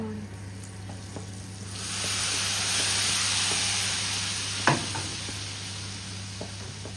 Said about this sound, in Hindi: सूख मिर्च डालूँगी और फिर मैं उसका तड़का लगाऊँगी